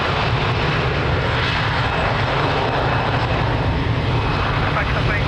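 An airliner rolls for takeoff from runway 02 at Lisbon Airport, its engines a loud, steady roar throughout, with radio voices underneath.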